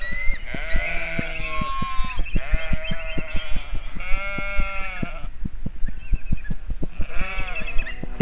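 Sheep bleat repeatedly in an animated Hindi-Urdu children's moral story, several wavering, overlapping cries coming in bursts over a steady ticking background, loud and close, with no speech.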